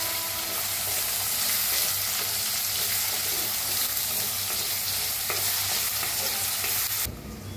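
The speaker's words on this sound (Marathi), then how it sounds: "आता मिक्स करून कांदा असा छान भाजून घेऊया।" Onions and curry leaves roast in a hot pan while being stirred, producing a loud, continuous sizzling hiss with scraping movements of the spoon throughout.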